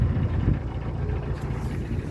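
A narrowboat engine turning over at low revs as the boat glides toward the bank, a faint, steady low rumble that stays even and unbroken throughout.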